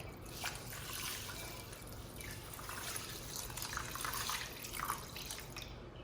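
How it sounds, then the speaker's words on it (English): Water poured into rice in a pot for a GoSun Fusion solar oven, a steady faint trickle and patter lasting several seconds with no talking. "you can add the water"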